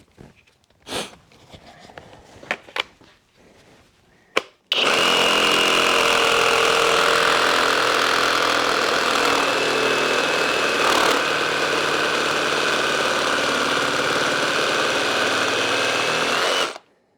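A Flex cordless reciprocating saw cuts at full speed, a loud, steady high-pitched buzz and whine that starts abruptly and runs unbroken for about twelve seconds before cutting off, preceded by a few quieter handling clicks and knocks.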